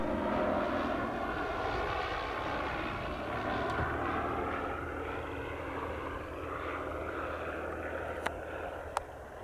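A small general aviation airplane lands on runway 8 right at Spirit of St. Louis Airport, its engine a steady, fairly loud drone that fades slightly over the span, with two brief sharp clicks near the end and no talk.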